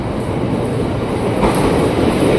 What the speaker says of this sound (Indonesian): Nah, masuk nih komuter tujuan Jakarta Kota.